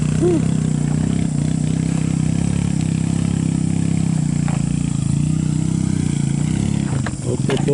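A motorcycle engine idles and chugs close by in a steady, loud mid-pitched drone, with a brief rev and rattle near the end.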